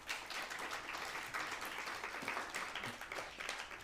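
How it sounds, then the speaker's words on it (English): A conference audience applauds after thanks to the organisers and technicians, steady clapping heard faintly from a distance. "Please give everyone a round of applause."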